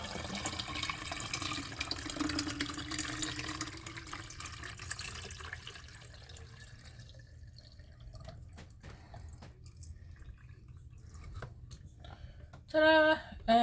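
Water is poured from a Brita filter pitcher into a bottle, a faint trickle and splash that thins out to sparse drips before a brief louder burst near the end.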